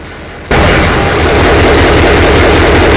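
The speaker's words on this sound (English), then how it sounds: "This engine sounds like something is wrong. It's a loud, high-pitched sound that seems to be coming from the engine itself." An EMD SD40 six-axle, 16-cylinder, 3,000-horsepower diesel locomotive roars to life and runs loud and close, a dense rumbling drone with a rhythmic pulsing beat and a harsh high-pitched edge suggesting a fault.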